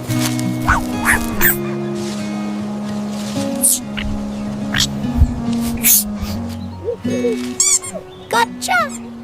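A cartoon duck named Ducky gives short, nasal quacks over stepping background music, with a few chittering calls scattered among them.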